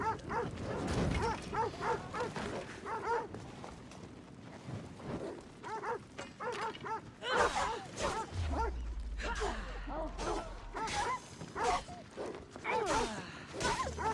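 Dogs bark repeatedly in the Assassin's Creed Odyssey video game, sharp barks scattered over wind-like outdoor ambience and game sounds, with voices talking at times.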